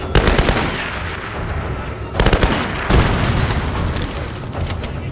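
Rapid machine gun bursts in Tomb Raider: Definitive Edition crackle loudly and almost without pause, with heavy booming impacts and explosion rumble mixed in.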